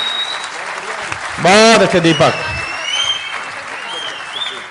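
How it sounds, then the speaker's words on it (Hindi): Loud applause from an audience at a poetry gathering, a continuous clapping wash with a single voice briefly calling out over it partway through. "एक बार जोरदार तालियां।"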